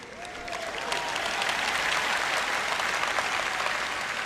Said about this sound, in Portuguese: Uma salva de palmas para o Dave ali.